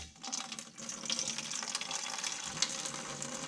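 Liquid running through a slit hose siphon drawing fluid from a radiator, a steady close gurgling flow with light splashy bursts throughout.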